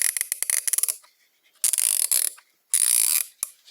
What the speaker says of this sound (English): Here's the also Tools 3/8 swivel head. Very nice sounding mechanism.